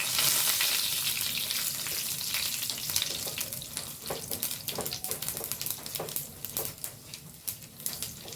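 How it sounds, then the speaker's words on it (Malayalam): Urad dal sizzles and fries in hot oil in a pan, a steady crackling hiss with bursts of popping that grow more distinct toward the end, close and fairly loud with no voices. "ഞാൻ അതിലേക്ക് ഉഴുന്നുപരിപ്പ് ഇട്ട് കൊടുക്കുന്നുണ്ട് കുറച്ച് ഉഴുന്നുപരിപ്പ് ഇട്ട് കൊടുക്കും"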